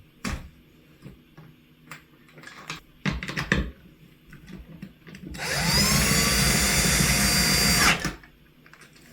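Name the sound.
power drill driving in screws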